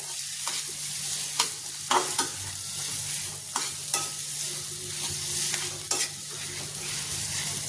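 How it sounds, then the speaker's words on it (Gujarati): A mashed potato mixture is stirred in a pan over a steady low frying hiss, with scattered soft clicks and knocks of the spoon against the pan throughout. "હવે બરાબર મિક્સ કરી દઈશું હલાવી લેવાનું છે"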